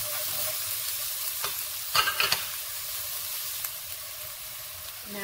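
Chopped garlic and ginger frying in a pan for Korean chicken and rice porridge, a constant close sizzle broken by a few sharp scraping stirs.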